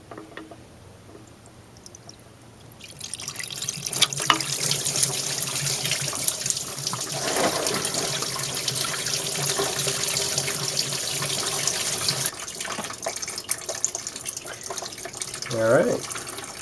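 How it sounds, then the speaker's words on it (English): Engine coolant pours from a car's cooling system into a bucket during a thermostat replacement, a steady watery splashing that starts after a few quiet seconds and runs continuously, with faint voices underneath. "Make sure you have your bucket underneath there, because you know the coolant is going to come out."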